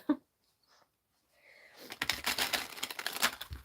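Tarot cards shuffled during a live reading: a brisk run of papery riffling and crinkling that builds after a brief quiet start and continues steadily to the end, close and moderately loud.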